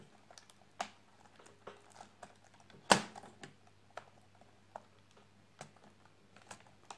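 An Acer Aspire 4736z laptop keyboard being pried loose and lifted out by hand: scattered faint plastic clicks and taps, with one sharp louder snap partway through, otherwise quiet.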